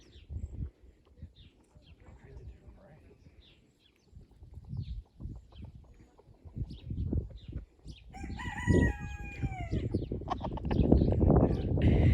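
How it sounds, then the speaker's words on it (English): A rooster crows once, fairly close, amid outdoor chatter and rustling on a farm, with people talking at a distance before and after. "I do like the sound of a good rooster crowing"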